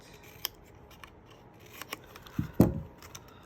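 Scissors cutting paper for a DIY paper palm decoration: faint scattered snips, then a louder, close crunching cut near the end, with no talk.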